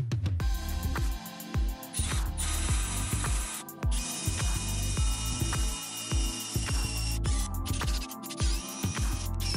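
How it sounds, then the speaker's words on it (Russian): Close metallic clicking and grinding of an M8 drill-and-tap bit drilling and threading a metal plate, with repeated ratcheting strokes and whirring bursts, loud and busy throughout. "теперь надо сделать отверстие и нарезать резьбу"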